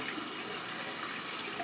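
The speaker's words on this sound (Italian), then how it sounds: "apriamo l'acqua calda" Hot water runs steadily from a tap, a continuous close hiss and splash filling the whole moment in a bathroom before a straight-razor shave, with no voices.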